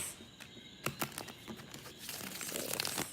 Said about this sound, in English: I'm reshuffling.